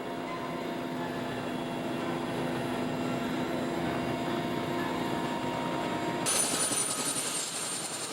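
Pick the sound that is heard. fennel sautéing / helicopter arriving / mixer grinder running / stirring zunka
helicopter arriving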